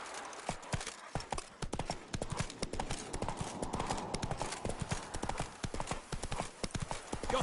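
Horse hooves clip-clop steadily in The Witcher 3 video game, a continuous close trotting rhythm mixed with faint game ambience.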